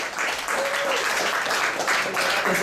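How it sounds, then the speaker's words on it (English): Steady applause from a crowd, a dense wash of clapping that holds throughout, with faint voices mixed in. "Give yourself a round of applause."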